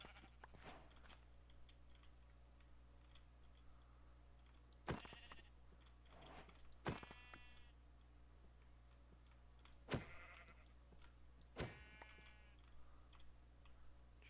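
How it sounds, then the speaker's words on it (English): Sheep in a video game give several distinct bleats spaced a couple of seconds apart, moderately clear over a quiet, steady background hum. "why is there so many sheep?"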